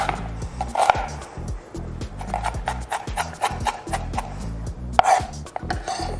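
A sharp knife chopping an onion for chimichurri on a cutting board, a rapid string of close, hollow knocks in an uneven rhythm with a couple of louder thuds.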